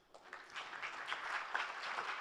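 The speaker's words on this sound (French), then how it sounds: "On peut l'applaudir." Audience applause at a social entrepreneurship plenary, greeting a panel speaker from Beirut: a steady wash of many hands clapping that swells quickly after a quiet start and holds for a couple of seconds.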